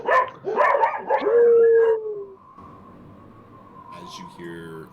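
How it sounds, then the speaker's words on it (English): Desert dogs howl in a tabletop game sound effect, with several wavering, yipping howls up front that settle into one long sustained tone, plus fainter howls rising near the end. "As you hear the dogs begin to howl. The desert dogs."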